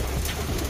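Pigeons coo softly at feeding time, a low steady murmur of birds close by with a faint rain-like patter of wings and feet underneath, no voices.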